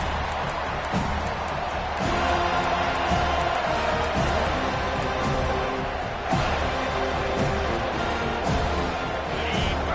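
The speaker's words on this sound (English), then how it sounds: "This crowd, full throat, splitting the eardrums and letting them know it's going to be a long day." A stadium crowd at a Colorado at Florida State college football game roars steadily and loudly, with swelling cheers and scattered whoops throughout.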